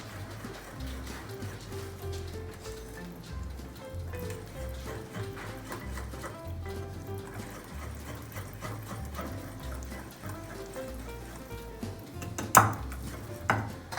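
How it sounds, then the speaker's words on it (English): A utensil scrapes and clinks against a bowl while stirring eggless banana honey muffin batter, a steady run of soft knocks and scrapes with a louder clatter near the end. "We'll mix it, give it a stir"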